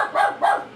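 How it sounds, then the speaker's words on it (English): Dogs give two sharp barks in quick succession, close and loud, set off by a neighbor's dog outside on a snowy winter day. "the dogs start barking."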